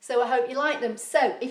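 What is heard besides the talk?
None of the usual background noises is heard.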